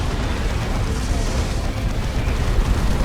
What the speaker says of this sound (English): Oh, it's a pretty good rocket run too.